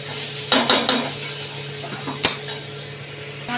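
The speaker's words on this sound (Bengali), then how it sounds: "এটা ভালো করে নাড়তে হবে" Spice paste of cumin, ginger and turmeric fried and stirred in a pan for a green banana curry, with a few scraping, clinking strokes of a spoon against metal over a faint low hum.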